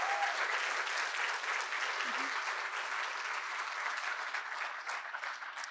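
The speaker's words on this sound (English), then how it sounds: "So a big round of applause for them." An audience at an event on the future of the workforce applauds its events and creative team, with sustained, dense clapping that slowly tapers toward the end.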